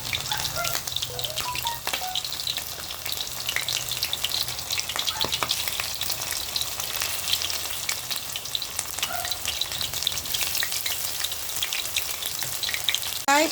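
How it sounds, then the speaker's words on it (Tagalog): Chicken pieces coated in cornstarch and flour fry in hot oil, a close, continuous dense sizzle and crackle that runs steadily throughout with no talk. "Ito yung ating manok with cornstarch and harina. Ipaprito na natin po siya."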